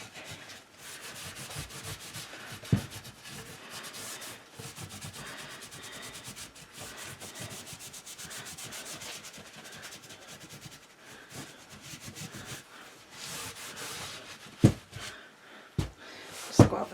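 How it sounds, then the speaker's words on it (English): An old flannel cloth rubs wax onto an ornate frame with continuous brisk scrubbing strokes, close and moderately loud, ending with a few sharp knocks and handling sounds. "It's an old flannel that I actually use for wax, so I'm just going to rub it in."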